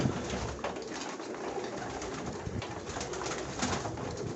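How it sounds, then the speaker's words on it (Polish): Pigeons coo steadily in a dense, continuous outdoor chorus, soft repeated calls overlapping at moderate volume with no talking. "Uwielbiam te gołębie"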